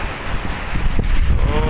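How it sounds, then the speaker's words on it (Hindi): Strong wind gusts along a quiet street in Najaf, Iraq, during rainy weather, a steady loud roar buffeting the microphone with no break. "बड़ी तेज़ हवा है"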